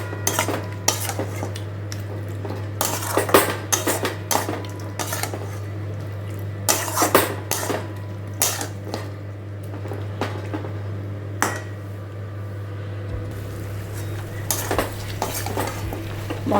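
Spice mix with chilli and coriander powder is stirred and sautéed in a pan for a Bengali mango chicken dish, with repeated loud metal spoon scrapes and clatters against the pan over a low hum, no talk.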